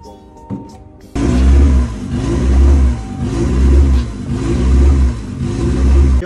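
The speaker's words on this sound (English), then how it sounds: "going to start it up and make sure that all is good, and make sure that the idle got better" A Honda CR-V engine cranks and catches, then settles into a steady rhythm of repeated revs swelling and easing back, loud and close, with a faint voice early before the start.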